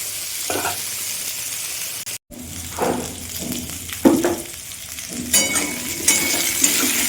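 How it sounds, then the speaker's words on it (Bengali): Potato pieces fry lightly in oil in a pan, a steady sizzle broken by stirring scrapes and a few clinks of a utensil against the pan, close by. "আলু খুব বেশি ভাজার দরকার নেই, হালকা একটু ভেজে নেব আলুগুলো"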